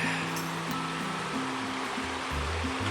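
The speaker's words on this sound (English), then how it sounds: "And yet another water crossing." Continuous rushing stream water runs close by at a trail water crossing on the way to Dead Horse Lake, with a low humming tone underneath.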